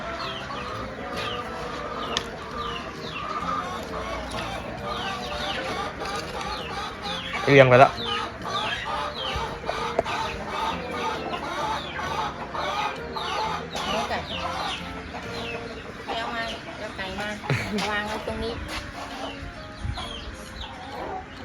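Chickens cluck steadily at close range for over twenty seconds, with scattered sharper calls and a brief louder burst, while people talk over them.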